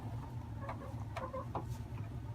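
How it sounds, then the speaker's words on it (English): Young pullets in a shed, about fifteen birds, give soft scattered clucks and short calls over a low steady background hum. "We have 15 birds in here"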